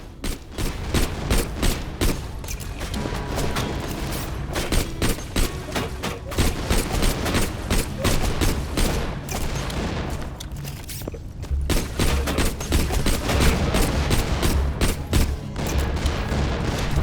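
Gunfire in a Borderlands 2 fight, dense bursts of rapid shots and blasts crackling almost continuously, with heavier booms mixed in and a steady pounding underneath.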